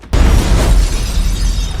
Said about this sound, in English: Upon explosion, the car's bulletproof window is now completely shattered.